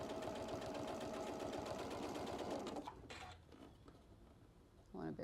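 A sewing machine stitches a bucket hat, running steadily for a few seconds, then slowing and stopping before short bursts of reverse stitching, close and moderately quiet, with a voice heard near the end.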